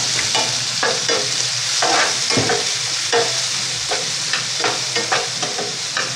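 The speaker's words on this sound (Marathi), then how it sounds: "आपल्याला कांदा छान परतून घ्यायचा" Onion sautéing in a pan with a green chili, a close, steady sizzle punctuated by repeated scraping and clinking of a spatula stirring, no talking.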